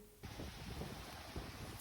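Steady rain falls on a street in Kyiv, a constant broad wash of patter and splashing that starts abruptly and continues evenly, moderately distant, with no voices.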